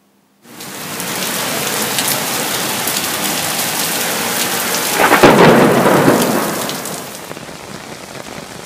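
A heavy thunderstorm with steady rain pours down while a loud rolling thunderclap swells midway and rumbles off, all close and without voices.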